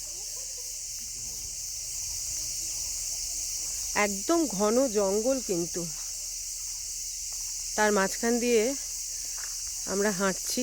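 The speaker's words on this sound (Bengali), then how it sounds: "আর তার সঙ্গে ঝিঝি পোকার ডাক।" Crickets drone in a dense forest near Dirang, Arunachal Pradesh, a steady high-pitched insect buzz running the whole time beneath a voice.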